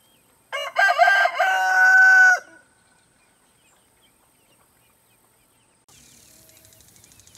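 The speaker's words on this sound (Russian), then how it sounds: "Цесарки, что вы тут делаете" A guinea fowl gives a loud, harsh, rapid series of calls close by for about two seconds, followed by silence and then a faint, distant chattering of more birds near a country house.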